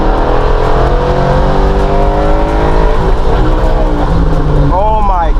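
A 2014 Ford Mustang engine with MT82 manual transmission roars close by in third gear from 4,000 RPM, climbing steadily in pitch as it accelerates hard under load, with a voice breaking in near the end.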